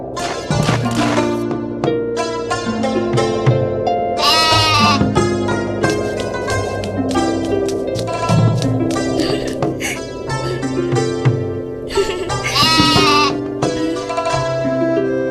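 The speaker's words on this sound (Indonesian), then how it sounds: "Itu namanya kambing pintar." Goats bleat loudly and often, several overlapping wavering cries close by, with a voice speaking in between.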